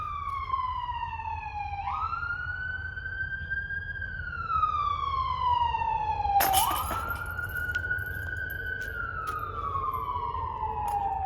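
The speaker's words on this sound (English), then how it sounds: "We got the ambulance out here." An ambulance siren wails steadily near a disc golf course, rising and falling in long sweeps, fairly close with a low rumble of traffic underneath and no voices.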